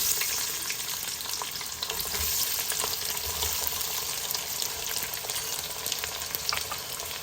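Onions frying in a pan with soya chunks for a meal maker pulao, giving a steady, dense sizzle with occasional stirring scrapes throughout, close and continuous with no talking.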